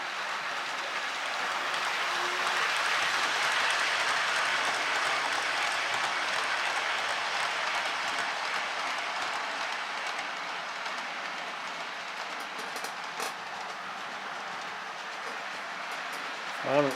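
A Bachmann model locomotive with a modern motor runs along its track, giving a continuous close rattle and hum with a faint rhythmic clickety-clack and an occasional wheel squeal near the end.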